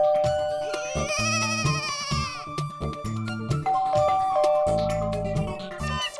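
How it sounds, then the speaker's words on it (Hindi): A doorbell at a house door chimes repeatedly over a busy, loud background of a musical jingle and tones. "इसकी तो घंटी भी बज रही है।"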